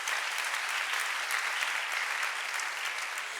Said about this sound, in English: please clap for Basi Akuba.